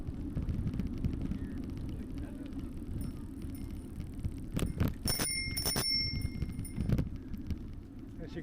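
A bicycle bell rings a few times, bright and close, over steady road and wind noise while riding.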